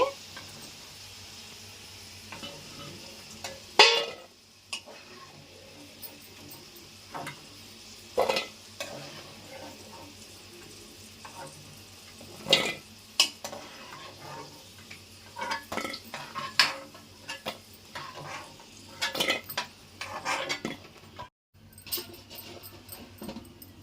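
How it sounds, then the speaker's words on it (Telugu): Drumstick (moringa) pieces frying in a pan on medium heat for pickle, a faint steady sizzle with sporadic clinks and scrapes of a spatula against the pan, quiet and intermittent. "మిగిలిన ములక్కాడలు కూడా వేసేసుకుని ఇవి కూడా అలాగే వేయించుకోవాలండి."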